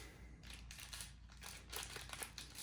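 Dull scissors cut and crinkle the plastic packaging around Hobby Master model display stands, a quiet run of crackling, rustling snips that keeps coming in uneven bursts.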